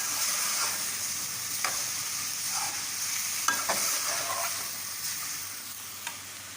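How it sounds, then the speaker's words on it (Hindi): Samosa filling with capsicum frying in a pan over medium heat, a steady soft sizzle with occasional spatula taps and stirring scrapes, heard close up with no voices. "शिमला डालने के बाद आप इसको थोड़ा सा फ्राई करें।"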